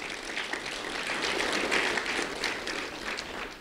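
A roomful of people gives a round of applause for volunteers at a Lee County gathering: dense, even clapping that carries steadily through the whole stretch without pause.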